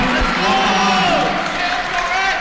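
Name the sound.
crowd cheering at a high school volleyball game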